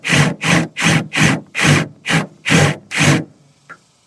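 Drill biting into a rivet head on a pontoon's aluminium underskin during a tritoon restoration: eight short, evenly spaced loud grinding bursts close up, then a brief faint tap, with no talk.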